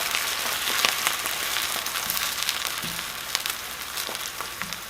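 Pineapple pieces sizzle and crackle in a hot pan for Thai meatballs, a continuous close frying hiss broken by small pops and the scrape of stirring.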